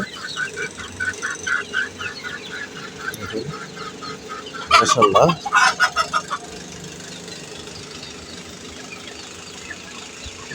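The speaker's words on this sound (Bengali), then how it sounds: "দেখেন বড় মুরগিগুলা এবং ছোট মুরগিগুলা একসাথে খাবার খাচ্ছে" Chickens, large and small, cluck and squawk nearby while eating, a short burst of louder flapping and calls in the middle, over a low hum, with brief talk at one point.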